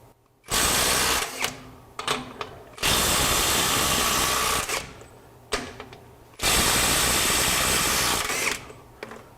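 A Silvel 21V brushless impact wrench runs wide open in reverse in several loud, sustained hammering bursts, with shorter blips and pauses between them, at close range.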